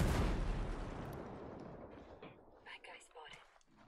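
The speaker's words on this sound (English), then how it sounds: "enemies attacking with mortars." A mortar blast in a video game raid mission, a loud, heavy boom at the start that slowly rumbles away, followed by fainter scattered sounds of combat.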